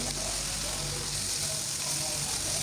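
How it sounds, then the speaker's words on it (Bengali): Coral fish fry in a pan as the pieces are turned, giving a steady, loud, close sizzle of hot oil throughout with no distinct voice. "এইবার উল্টিয়ে নিচ্ছি সব মাছগুলো আমি কড়া করে এক সাইড ভেজে তারপরে অন্য সাইড তুলে আবার ওই পাশটা ভাজবো"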